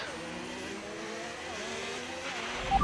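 An F1 car engine in the F1 25 racing game accelerates with a high, steadily rising whine that climbs through the gears, sustained and fairly close, with no one talking.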